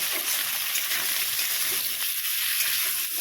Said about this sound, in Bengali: এবারে আমি কেটে রাখা ছিমগুলোকে দিয়ে দেবো দিয়ে একটু ভালো করে আলুর সাথে ভেজে নেব